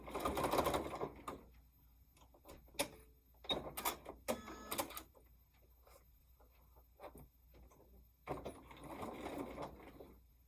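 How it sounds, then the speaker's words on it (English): A sewing machine runs in short bursts as it stitches a dark 1.5 inch strip around two sides of a quilt block with a white border, with quiet clicks between the runs. "And I'm just sewing around 2 sides."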